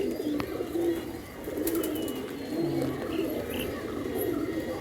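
Pigeons coo in low, repeated throaty phrases close by on a sheet roof, with faint rustling underneath and a few brief sharp sounds.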